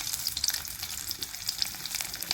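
Garlic sizzling and frying in a hot pan for a sour chuka greens curry, a dense continuous crackle close by with occasional stirring, no voices.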